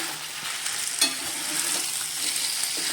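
Spicy potato slices sizzle and fry in a pan, a steady close crackle with a brief louder pop near the middle and no talking.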